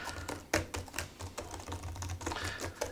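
Typing on the keyboard of an Asus ROG Flow X16 2-in-1 gaming laptop, a rapid run of close, soft key clicks with irregular rhythm and a few sharper taps, alone without talk.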